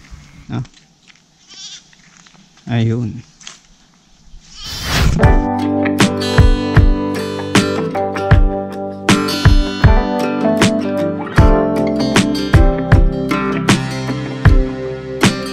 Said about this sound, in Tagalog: So kakaiba tong mga kambing dito, mga ordinaryong kambing dito sa Pilipinas.